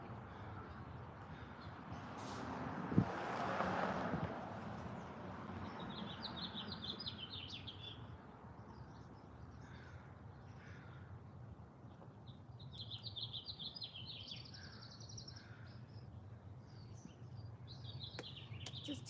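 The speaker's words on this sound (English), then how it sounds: "They are chirping, the little birds." Small birds chirp outdoors in the sun: repeated high, thin tweets in short clusters, fairly distant and faint, over steady low background rumble with a brief thud early on, no voices.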